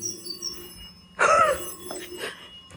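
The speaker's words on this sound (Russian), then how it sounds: "Тебе Ольга звонит с того света" An old telephone booth in a museum, an exhibit from around the 1930s–40s, rings in a sudden loud electric bell burst that fades after a second, with lighter ringing following.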